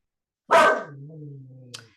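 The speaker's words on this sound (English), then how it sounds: "my dog barks when it's time to present" A single dog bark rings out loud and close, then trails into a whining, tonal yelp for about a second, ending with a short faint yip; the dog barks in a home setting during an online meeting.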